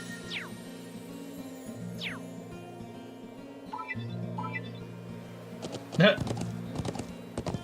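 Horse hoofbeats clip-clop steadily in the video game Trails of Cold Steel, layered over sustained game music, with a brief sharper clatter near the end.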